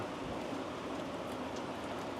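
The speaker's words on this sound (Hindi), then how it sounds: "बैठो आप लोग, बारिश हो रही है, कपड़े गीले हो जाएंगे" Rain falls steadily outdoors, a dense, even hiss of broadband noise with no breaks and no talking.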